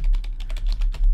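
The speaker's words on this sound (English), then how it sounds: "let's try typing it in." Rapid keystrokes on a computer keyboard come close and clear, a quick run of clicky taps as a name is typed in.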